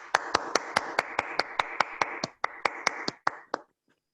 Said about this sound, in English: Agorian Yogendra, let's all give her an applause